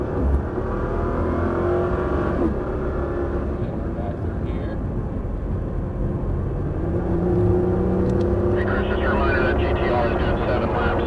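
A Nissan GT-R engine on a race track, a loud sustained drone that builds as the car accelerates, heard from inside the car with talk over it.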